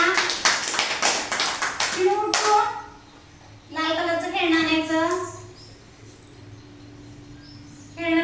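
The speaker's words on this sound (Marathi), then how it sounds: "छान टाळ्या" Young children at an anganwadi clap their hands in a quick run of sharp, even claps, then break off. Their voices and an adult's voice rise and fall around the clapping.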